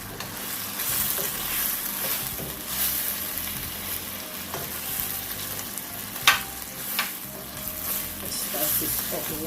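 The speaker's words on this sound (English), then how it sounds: "Also, I'm going in with my broccoli." Broccoli stir-frying in a pot of shrimp and vegetable stir-fry, a steady loud sizzle with scraping stirs and a sharp clack of a utensil against the pot midway, continuing alone.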